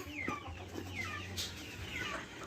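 Chickens cluck repeatedly on a worm farm, several birds sounding at moderate distance over a steady low hum, with no talk.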